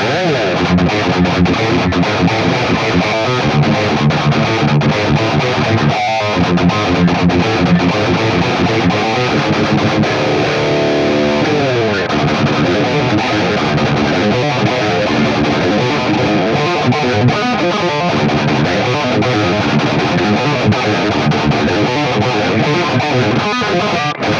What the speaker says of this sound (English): I'm gonna finally leave you with some distortion stuff